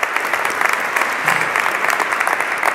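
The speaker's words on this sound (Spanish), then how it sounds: "un aplauso, que se lo merecen." Dense, steady applause from an audience at a presentation of the Burgos 2024 fair posters, a continuous wash of clapping with no gaps across the moment.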